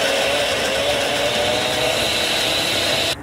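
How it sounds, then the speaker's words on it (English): A mixer grinder blitzing garlic cloves, ginger and green chilies into a coarse paste roars loud and steady, close by, before winding down at the end. "Cover and grind this into a coarse paste."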